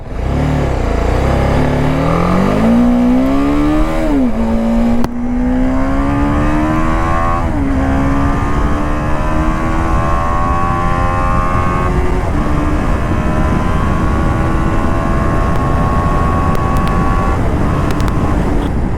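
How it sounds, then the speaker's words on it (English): A BMW G 310 GS motorcycle engine revs hard and climbs steadily in pitch, a loud, sustained high-revving whine that holds near the top for several seconds. "the exhaust note gets better when it revs hard"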